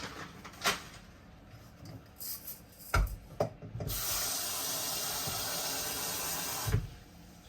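Rice is washed with room temperature water in a rice cooker pot at a kitchen sink, with a few knocks and rubbing sounds followed by a steady run of tap water.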